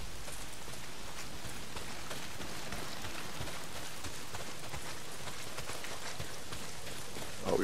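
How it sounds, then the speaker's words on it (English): Heavy rain pours down in the video game Days Gone, a dense, unbroken hiss of drops that holds steady throughout with no voices. "Well, not if it's pissing down rain."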